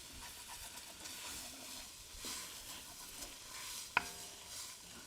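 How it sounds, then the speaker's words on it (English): Onions in a soup pot are stirred and scraped with a spoon, a soft continuous scraping with a faint hiss of cooking and one sharp knock against the pot near the end. "you want to keep stirring at this point because you don't want your onions to stick to your pot"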